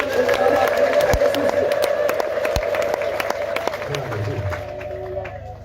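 A church congregation claps and ululates together, a steady dense wash of crowd noise with a sustained high trilling cry running throughout, loud and continuous before easing slightly near the end.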